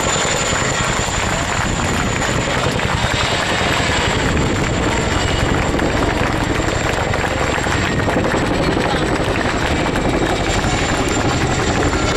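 A Chinook helicopter flies overhead at an air display, its loud, continuous rotor and engine roar filling the whole stretch without pause and drowning out other sound.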